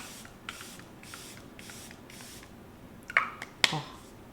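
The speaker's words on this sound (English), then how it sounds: "So I'm going to spray this right now." Two quick hissing bursts of makeup setting spray from a pump bottle, close and fairly soft, follow a faint series of light taps.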